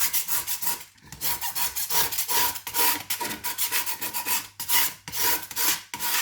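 A spatula scrapes excess sprinkles off a sprinkle sheet in steady, repeated rasping strokes, close and fairly loud, with no talking.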